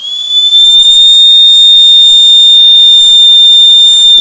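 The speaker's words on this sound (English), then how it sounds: "That's a really loud whistle." A piercing, high-pitched whistle from a keychain safety whistle blown close up, holding one steady shrill tone for several seconds without a break.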